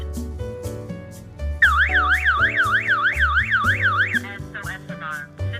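A burglar alarm system sounds its SOS alarm: a loud, fast warbling siren that sweeps up and down for about two and a half seconds, framed by short electronic beeps and chime tones before and after.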